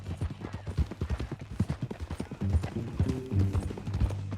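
Horse hooves in the video game Red Dead Redemption 2, a brisk, rhythmic clip-clop of a walking horse, close and continuous, with a low rumble and faint background sounds beneath.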